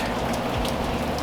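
Steady rain patters and hisses continuously outdoors, a dense, even wash of drops with no voices.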